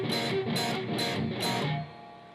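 Distorted electric guitar picking the bottom three open strings upward, then muting them with a downward pick drag, repeated in a steady rhythm of about four strokes, close and loud with no talking.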